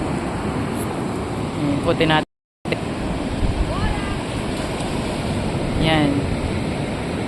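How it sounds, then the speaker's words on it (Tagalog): Sea surf rolls onto the shore at Alassio in Liguria on a cold day after summer, a constant wash of waves and wind roar with a brief dropout, while voices talk over it. "Yan ang dagat ngayon"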